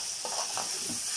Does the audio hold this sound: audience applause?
no